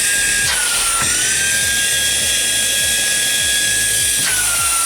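Aspiring Windstorm 3 cordless car vacuum cleaner running loud and close, a steady high-pitched motor whine with a strong tonal hum, clicking through speed settings with brief pitch shifts.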